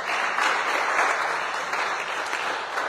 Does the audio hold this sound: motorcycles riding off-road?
no